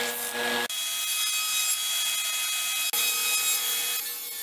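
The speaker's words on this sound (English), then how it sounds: "The bandsaw makes quick work of cutting out all the pieces." A bandsaw cuts out wooden shelf-bracket pieces in a steady, continuous whine and rasp, with two brief gaps where one cut ends and the next begins.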